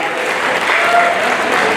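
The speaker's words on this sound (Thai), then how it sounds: "ขอเสียงปรบมือให้กับท่าน นายก สุวรรณีตั้งปณิธานนท์ครับ" An audience applauds the mayor of Mukdahan: a short, dense, loud wash of many hands clapping at once, steady and unbroken, with no voices on top.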